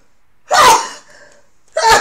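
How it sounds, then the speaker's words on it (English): Two sharp sneezes from a woman, the first at about half a second and the second near the end, each a loud explosive burst separated by quiet. "Excuse me, I'm sneezing."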